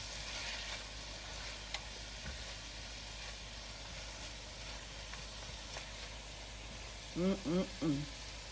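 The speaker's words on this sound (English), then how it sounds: "Now this mixture becomes the flavor base for the greens. So we want to saute these for a few minutes." An onion mixture sautés in a pan as the flavour base for Southern mustard greens, giving a steady, soft sizzle and hiss throughout, with a few short tonal vocal sounds near the end.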